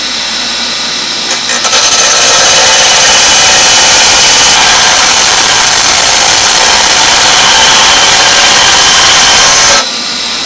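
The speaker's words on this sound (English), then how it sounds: "Got my battery drill and a chunk of round stock." A battery drill spins a chunk of round stock against a rotating wheel, producing a loud, steady grinding whine that starts abruptly, holds for about eight seconds, then cuts off.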